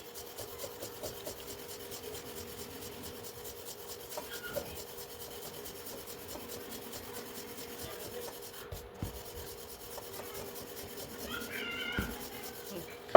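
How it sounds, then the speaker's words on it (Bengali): A ball of dough for aloo paratha is rolled out and gently pressed, giving a faint, soft rubbing and rolling sound that repeats quietly and steadily at close range. "প্রথমে একটা লই করে নিয়ে এটাকে গোল করে নিচ্ছি, হালকা হালকা চাপ দিয়ে,"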